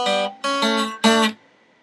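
Three strummed acoustic guitar chords ring out one after another, the last one fading into quiet.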